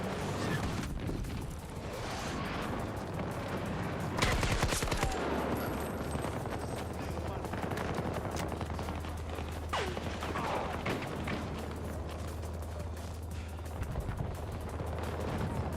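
Rapid automatic gunfire from a prototype weapon in the shooter game Battlefield 2042 rattles in repeated bursts amid battlefield explosions and mechanical clatter, loud and close throughout.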